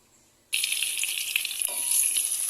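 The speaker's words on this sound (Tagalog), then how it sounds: "nilagay na natin ang bawang at sibuyas. Gisa muna natin siya." Garlic, onion and ginger hit a hot pan for ginisang mongo and erupt into a loud, bright sizzle after a short silence. The frying hiss stays steady and close, with a few small stirring clicks.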